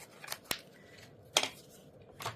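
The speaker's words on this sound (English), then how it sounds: "So I'm going to take my scissors" Four crisp scissor snips cut through paper at uneven intervals, close by in a quiet room.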